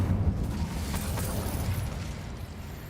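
In the video game Hogwarts Legacy, the Incendio fire spell goes off as a loud, close, roaring burst of flame with a heavy low rumble that swells at the start and slowly fades.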